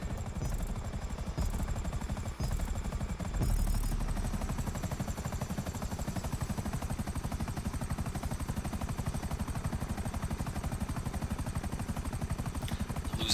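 A Buzzard attack helicopter in a video game, a loud continuous rotor thump with a steady engine whine, close and unbroken, with a few sharp clicks near the start.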